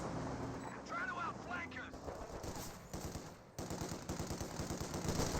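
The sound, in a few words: machine gun fire in video game Company of Heroes 2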